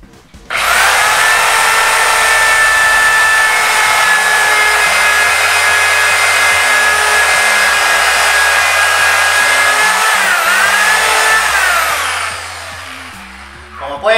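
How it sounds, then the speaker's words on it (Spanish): Power drill boring a hole into a wooden board through a JOINTCRAFTER dowel-joining jig: a loud, steady high whine that holds for about twelve seconds, then winds down, with a brief spin-up at the very end. "Hago fuerza y procedo a hacer el taladro."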